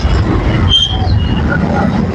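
Loud rumbling train noise with a brief metallic squeal, heard close by as rail cars pass.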